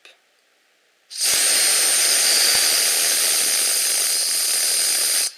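A homemade perpetual-motion motor/dynamo spins up suddenly after near silence, then holds a loud, steady high-pitched whine close by until it cuts off abruptly at the end.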